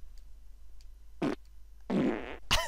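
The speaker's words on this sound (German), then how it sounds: "die Tonhöhe beim Furzen und beim Rülpsen kann man mit dem linken Stick verändern" Three cartoonish fart sound effects from the kart racing game Crash Tag Team Racing, each with a different pitch: a short burst, then a longer quavering one, then a sharp final blast, loud and with no speech.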